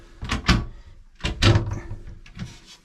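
A boat's cabin door being handled, giving two clusters of sharp knocking thuds with short rattles between them, close and fairly loud.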